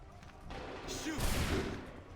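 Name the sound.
musket volley fired on command in Assassin's Creed III video game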